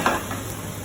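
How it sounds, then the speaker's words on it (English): Mushrooms and a knob of butter land in a hot pan while cooking beef Wellington: a short clatter at the start, then a steady, close sizzle with light stirring for under a second. "Now we're going to chuck in our mushrooms and a good knob of butter."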